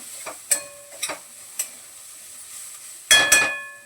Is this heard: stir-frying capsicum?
yes